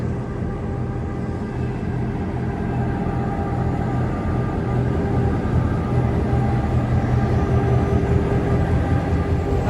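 Steady rumbling drone of the Lehigh Gorge Scenic Railway train in the Pocono Mountains of Pennsylvania, a continuous close low roar that holds even throughout with no voices.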